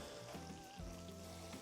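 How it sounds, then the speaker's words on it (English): Roasted carrots and asparagus sizzle quietly in a pan beside a bacon-wrapped pork tenderloin, a faint steady crackle with a thin tonal whine running through it. "Look at that. The sizzle."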